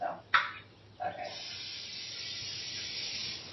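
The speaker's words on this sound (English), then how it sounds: "All the olive oil spray," Olive oil cooking spray hissing from a can in a home kitchen: two quick puffs, then a longer steady spray that runs to the end, close and moderately loud.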